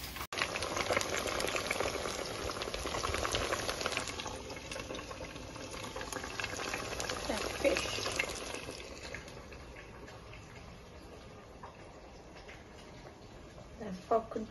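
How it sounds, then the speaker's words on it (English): Fish seasoned with black and cayenne pepper fries in a pan with a steady, broad hiss that is strongest early and fades gradually, while a person talks over it. "then I'm gonna fry some fish"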